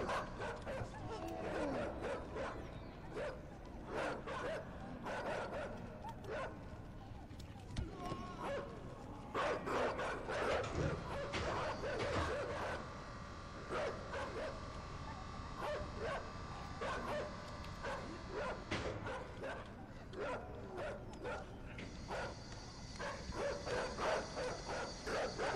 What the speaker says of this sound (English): The dogs freaked me out.